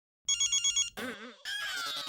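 A mobile phone rings in a household sitcom scene, with a bright repeating ringtone of five quick pulses, then a burst of louder mixed sound as the ring continues, close and clear.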